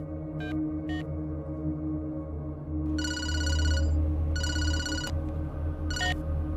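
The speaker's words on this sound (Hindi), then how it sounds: "चल राजा को फोन कर।" A telephone ringtone plays as someone calls, with a repeating electronic melodic trill in short bursts over a steady low hum. The ringing grows louder partway through and stops in between.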